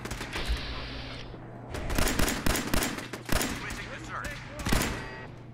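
Gunfire crackles in the Fallout 4 video game as rapid, close bursts of shots, with a dense volley in the middle and sharp single reports toward the end over a low background hum.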